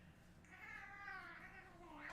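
A house cat meows once in a drawn-out, wavering call near the microphone, fairly soft and alone over a low room hum.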